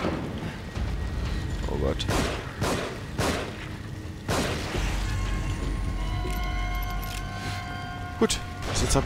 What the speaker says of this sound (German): Wer schießt denn hier wie so ein Irrer?